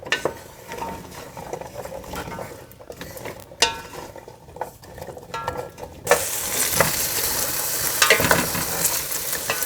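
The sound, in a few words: potatoes simmering in oil in a pot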